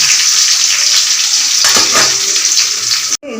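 Fenugreek seeds spluttering and crackling in hot oil for tempering a garlic curry, a steady loud sizzle with a brief burst of popping near the middle, ending abruptly.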